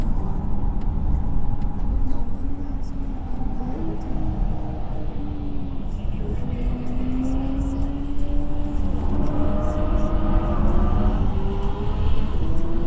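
Steady engine and road roar from inside a Polestar 2 on a lap of the Nürburgring while a Porsche GT3 RS comes up and passes, with a rising and falling tone and continuous, fairly loud rumble throughout.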